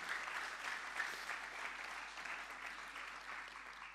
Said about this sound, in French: on peut vous remercier, vous applaudir